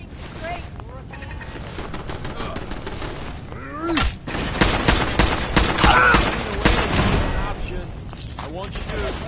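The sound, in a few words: gunfire in video game Fallout 4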